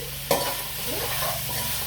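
Food for Telangana-style bagara rice sizzles steadily in hot oil, with a sharp clatter of a spoon near the start and a soft stir afterward.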